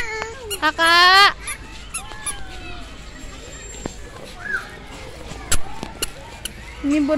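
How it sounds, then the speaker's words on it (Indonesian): A peacock calling at a zoo in Siantar, one loud, harsh honking cry near the start, then quieter scattered calls and clicks, with people chatting in the background. "Ini burung merak."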